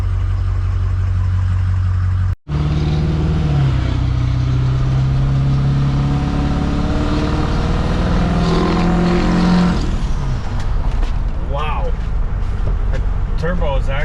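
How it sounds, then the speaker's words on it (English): A 6.0 Powerstroke diesel truck with a non-VGT turbo and FASS lift pump is driven around the block, its loud turbo whine and engine drone rising and steady throughout, with a brief dropout near the start and talk over it. "Turbo is actually pretty damn loud."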